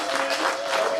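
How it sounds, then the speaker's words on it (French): An audience in a formal assembly hall applauds in one brief, dense burst of clapping at close range, with no pause in it. "Non, il faut applaudir quand même."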